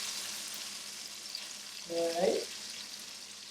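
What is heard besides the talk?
onions sizzling in a pan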